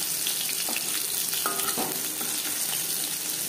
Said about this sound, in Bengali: মাছ ভাজবো মিডিয়াম ফ্লেমে